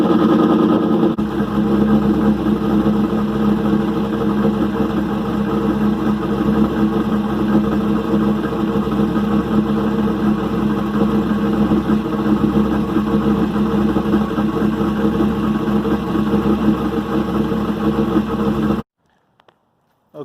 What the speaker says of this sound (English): Give it a quick cold start.